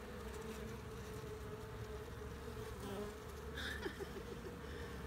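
Buckfast honeybees at open beehives make a dense, steady buzzing swarm drone close by, continuous throughout with a faint brief higher whine near the end.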